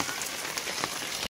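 Steady rain falls on a surface outside a village home, a dense continuous patter of drops that holds evenly before cutting off abruptly near the end, with no voices.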